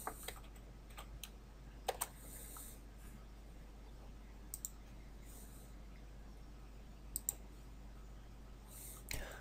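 Quiet, scattered keystrokes on a computer keyboard as a photo resolution is entered, with a few sharper clicks spread irregularly across a faint steady hum, no voices.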